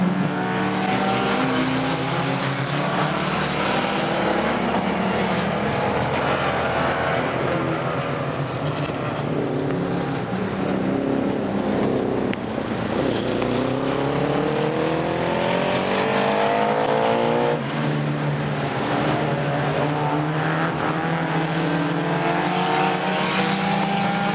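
Race cars at the Rolling Thunder Expo 2018 race past in a continuous loud engine roar, with rising and falling pitch sweeps as machines accelerate and pass; no talking.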